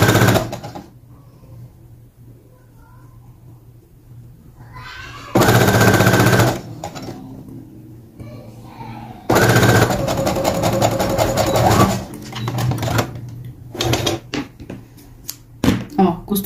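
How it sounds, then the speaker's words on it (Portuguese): A domestic sewing machine stitching a seam on a child's shirt with a priest collar, running in two loud, fast bursts of rapid needle chatter separated by quieter handling noises, close up. "Costurei de um lado até chegar mais ou menos aqui na emenda, tá? Agora, eu costuro do outro."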